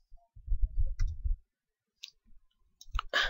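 A computer mouse clicks several times, sharp and close, in short separate bursts with quiet gaps between them.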